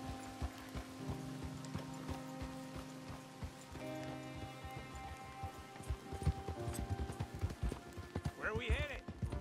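Horse hooves clip-clopping in Red Dead Redemption 2, a steady rhythmic series of hoofbeats through the clip, growing louder toward the end over ambient game sound and music.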